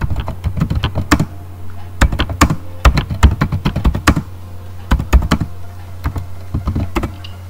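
Rapid clacking keystrokes on a computer keyboard as commands are typed into a command prompt, coming in quick uneven bursts with short pauses between, close and fairly loud.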